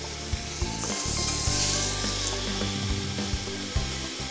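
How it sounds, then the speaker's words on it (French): Venison pieces frying and browning in a pan for a civet, a steady sizzle with light clatter beneath a tonal music bed throughout. "on va les mettre à revenir et à dorer"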